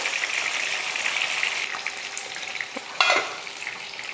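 Fish frying in oil in a pan gives off a steady, close sizzle, with a brief louder burst of spitting and a faint stir near the end.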